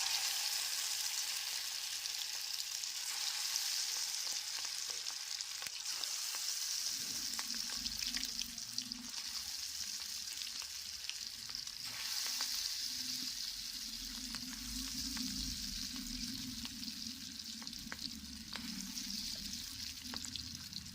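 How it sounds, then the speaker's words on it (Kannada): Prawn kebabs sizzling and crackling in hot oil in a pan, a steady hiss with small pops and a fuller frying bubble starting a few seconds in, close and even throughout. "ಸೀಗಡಿ ಕಬಾಬ್ ಹಾಕ್ಕೊಳ್ತೇನೆ."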